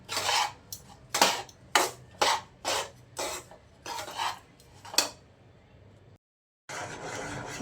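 A spoon stirs dry ginger powder into a wheat flour laddu mixture in a metal pot, with a series of about ten rhythmic scraping, clinking strokes, close and fairly loud, then a short pause before more scraping.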